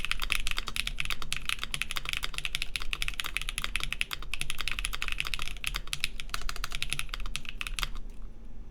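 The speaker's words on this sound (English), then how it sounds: "sounds like a keyboard" Steady, fast typing on a COSOUL Soul 65 mechanical keyboard, a continuous clatter of close, crisp keystrokes with no talk over it.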